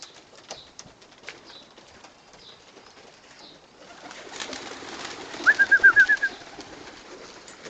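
Racing pigeons released from a loft for a short exercise flight, with soft cooing and a burst of wing flutter outdoors, fairly distant, followed by a quick run of rhythmic flapping pulses near the end.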